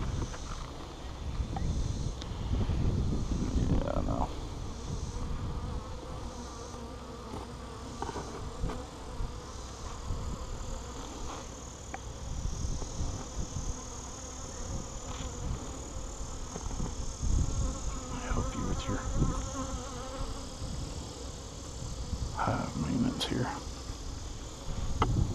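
Honey bees from an opened top bar hive hum in a steady, close swarm during an inspection of brood combs, with some wind and occasional handling noises while a person talks intermittently.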